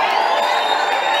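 A packed hall crowd at an election rally roars with sustained cheering and ovation, a dense continuous wash of voices and whoops, loud and close, with no clear individual words.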